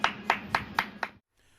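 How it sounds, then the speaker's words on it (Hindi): Protesting job seekers clap hands and bang plates, five sharp, evenly spaced strikes in a steady rhythm about a quarter second apart, close and distinct, before stopping abruptly into near silence. "बेरोजगार साथियों के लिए ताली और थाली, एक बार मोदी जी के लिए तो एक बार बेरोजगारों के लिए भी बजनी चाहिए"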